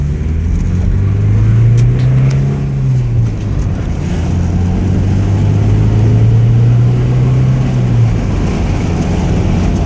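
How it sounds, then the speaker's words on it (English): A 1988 Porsche 944 Turbo engine runs steadily up close, a loud continuous low rumble with a gentle rise and fall in pitch, and no voices over it. "So the car runs good."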